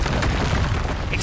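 Confringo and Depulso spell blasts from Hogwarts Legacy land as a dense, loud, continuous booming burst across the whole short moment, with no separate hits standing out.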